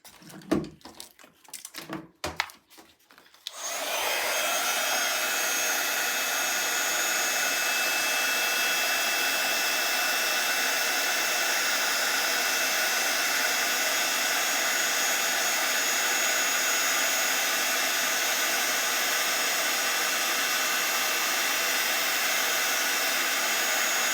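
After a few brief clicks and knocks, a heat tool starts up and blows with a loud, steady whooshing roar, melting clear gloss embossing powder on a card.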